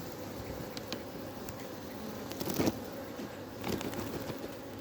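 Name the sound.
honeybees buzzing in an opened hive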